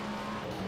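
Race car tires squealing in the iRacing sim during the 24 Hours of Le Mans, a brief sustained tonal squeal over a continuous engine drone.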